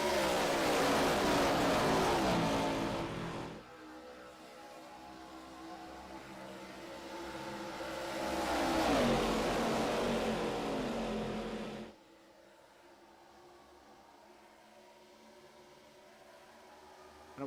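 Race cars at Michigan International Speedway surge past in two long waves of engine roar that swell and fade, then a quieter distant drone remains, with no voices.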